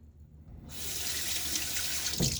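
Tap water runs steadily into a bathroom sink during a wet shave, starting abruptly after a brief quiet moment and continuing as a close, broad rushing stream with a slight change in splash near the end.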